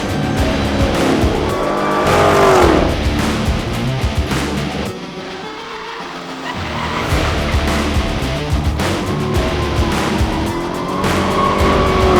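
A Dodge Hellcat does burnouts and drifts, its engine roaring loudly while the tires squeal in long, wavering screeches that swell and fade with throttle, close and continuous apart from a brief lull midway.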